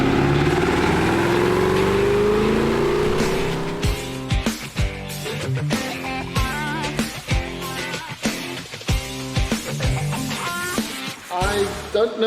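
A BMW 650i Motorsport Edition twin turbo engine revs loudly, first a rising sustained pull, then a rapid series of sharp blips and throttle stabs close by.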